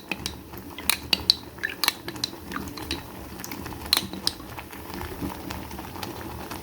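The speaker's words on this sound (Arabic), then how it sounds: "واحنا بننزل بالنشا في الميه لازم نبدا نقلب كويس جدا عشان النشا وهو نازل ما يكلكعش مننا" A spoon stirs a starch-and-water mixture into a pot of homemade ketchup, making irregular close clinks and scrapes against the pot over a soft bubbling background.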